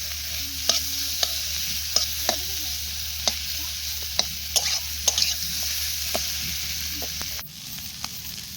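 Raw banana curry with chili powder is stirred in a pan, with sharp spoon taps against the metal at irregular intervals over a low, steady sizzle that drops slightly near the end.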